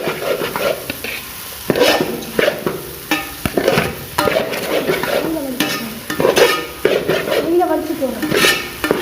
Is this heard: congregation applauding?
no